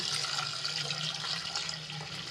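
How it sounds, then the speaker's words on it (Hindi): Reserved meat stock (yakhni) poured into a cooking pot of tomatoes for Afghani pulao, a steady liquid splashing and gurgling flow running continuously throughout at close range, with no talking. "अब मैं इसमें जो मैंने यखनी को सेपरेट करके रखा हुआ था इसमें डाल देते हैं"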